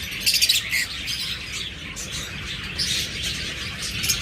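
Pairs of green opaline budgerigars give a few bright chirps near the start, then softer scattered twitters over a steady background hum.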